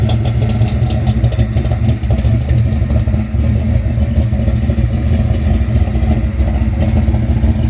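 A loud rusty rat rod with Flowmaster exhausts runs steadily with a deep, rumbling exhaust note, holding a constant low drone without clear revs throughout.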